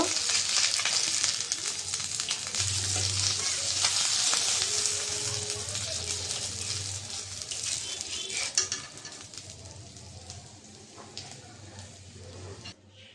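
Steady loud sizzling of chapa fish frying in hot oil fills the clip, with occasional clinks of a utensil, easing somewhat toward the end.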